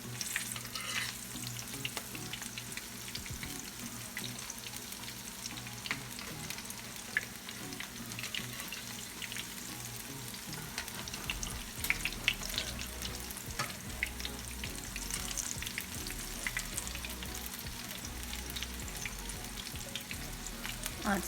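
Veggie fritters frying in a pan just after flipping, a steady close crackling sizzle that runs on alone without a break.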